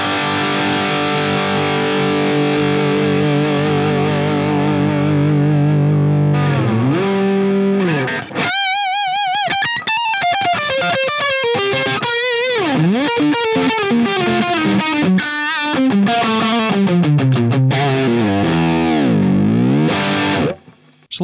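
Electric guitar played through a Soldano SP77 preamp with the gain turned fully up, a thick, heavily distorted tone sustaining chords and then bending and sliding through fast lead lines, loud and continuous, with no talking.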